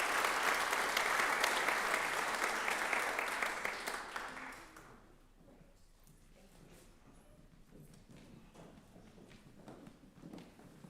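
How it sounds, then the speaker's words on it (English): An audience at a teacher education graduation ceremony applauds the graduates with loud sustained clapping that fades out after about five seconds, leaving quieter scattered room sounds. "Will you please give another round of applause to our graduates?"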